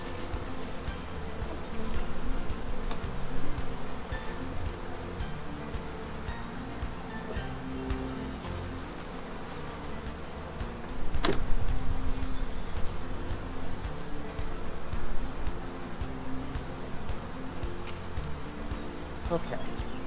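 Honey bees buzz steadily around a hive in an outdoor beekeeping setting, a dense, continuous droning hum with a few brief clicks and handling noises over it.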